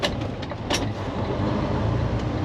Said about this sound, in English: So clutchless downshifting, you touch the throttle a little bit, and that'll allow the gear to come out.